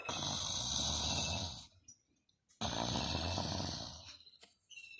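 A voice imitates a bear snoring, two long loud rasping snores separated by a short pause, close and alone.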